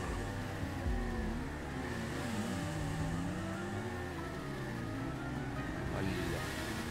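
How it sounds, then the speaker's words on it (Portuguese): A Kuma motorcycle accelerates in GTA V Online, its engine revving in rising and falling pitch sweeps through gear changes, fairly faint and continuous, while a person talks alongside. "Essa moto aqui tem muita arrancada."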